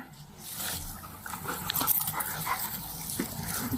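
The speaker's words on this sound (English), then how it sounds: "Hear the dog, Jeffrey." A police dog makes restless whining and panting noises close by during a SWAT raid, continuous with small barks or yelps mixed in.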